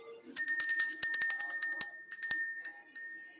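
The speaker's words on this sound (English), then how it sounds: "Let's ring the bell." A small bright bell rung in quick repeated strikes, a fast run of ringing dings followed by a few spaced, decaying rings, close and clear with no talk.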